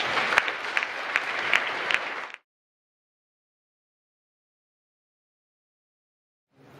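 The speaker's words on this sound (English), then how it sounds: "Give them a nice round of applause." A school auditorium audience claps loudly in a dense burst of applause for a little over two seconds, which cuts off into silence before faint sound returns at the end.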